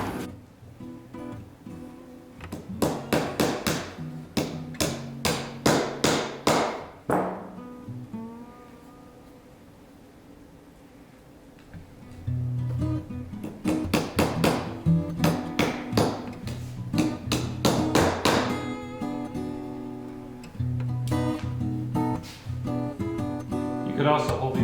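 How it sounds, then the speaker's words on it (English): Brads being hammered into a copper sheet for repoussé and chasing: bursts of sharp, ringing metallic taps close by, a lull of quieter handling in the middle, then more rapid strikes. "I'll finish putting these brads in."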